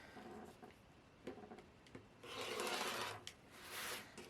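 Scissors trimming the fabric edge of a pillow, quiet rustling and rasping cuts in a few short strokes followed by a longer, louder stretch of cloth scraping, close by with no talking.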